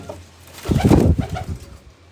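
Pigeons coo close by, a soft throaty burble rising and fading over about a second in an otherwise quiet space.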